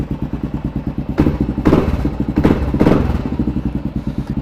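A Kawasaki KLR650 single-cylinder engine on a ride: rapid, even thumping pulses at close range. Revs swell in several surges, then settle back to a steady chugging rhythm.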